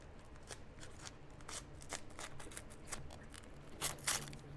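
Stiff plastic wrapping crinkles and tears as a flintknapping bopper tool package is unwrapped, a run of close, dry rustles and rips with a sharper burst of tearing near the end.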